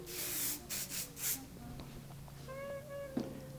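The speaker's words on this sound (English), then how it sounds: "Just going to spray over the hair a little." A few short, breathy hissing bursts of hairspray close by, followed by quieter rustling and faint handling noises.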